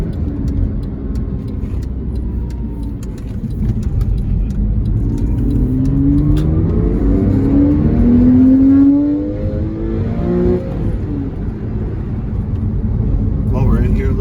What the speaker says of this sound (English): Second gear pull so you guys can hear the engine